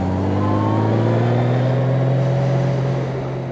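Honda Goldwing and BMW motorcycles passing on a mountain road, a loud steady engine drone with a sustained low hum and rising tones as the bikes go by close.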